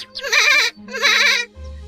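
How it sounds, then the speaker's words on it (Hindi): Two loud, wavering bleats from a goat in a cartoon, close and clear, each about half a second long with a brief pause between them. "दोनों बकरियां घास चरने लगी"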